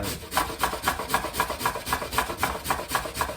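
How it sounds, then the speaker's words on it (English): A carrot is rubbed against the fine side of a kitchen grater in quick, even strokes, about four per second, giving a soft rhythmic rasp with no voices. "I'm going to turn to the side and use the fine grate for my carrot."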